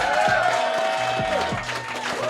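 A live podcast roast-battle crowd clapping and cheering, a dense continuous wash of applause with crowd noise and a voice talking over it, steady and fairly loud throughout.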